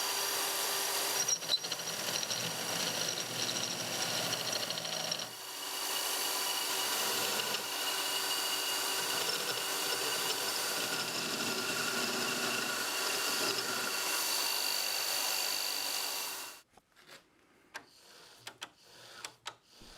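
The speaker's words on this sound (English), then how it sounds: "I used some of the chisels from the last episode to turn it into a roughly cylindrical shape" A chisel roughs a piece of wood into a cylindrical shape, probably on a spinning lathe, making a continuous close scraping, whirring drone that runs steadily for most of the stretch, then stops and leaves scattered faint ticks and knocks.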